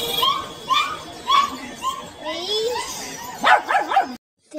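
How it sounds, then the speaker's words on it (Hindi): Puppies at a bird market yip and bark in a rapid series of high, close calls, ending in a quick burst of whimpering yelps before cutting to silence. "ये देखिए क्यूट क्यूट पपी।"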